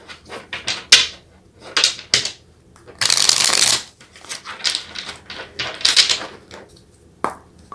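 Tarot cards are shuffled by hand, giving repeated close papery riffles and flicks with one longer, louder riffle in the middle and soft handling noises between them.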